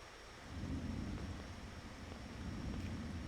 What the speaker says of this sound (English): hearing this thunder